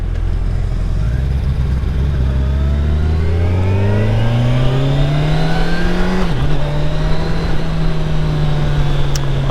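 A 2021 Kawasaki Ninja 1000SX sport bike pulls hard under acceleration, its engine note climbing steadily through the gears with a brief dip at a shift, loud and close throughout with no talking.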